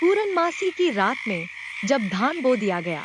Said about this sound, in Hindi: मेंढकों ने अपना बड़ा गीत गाना शुरू किया।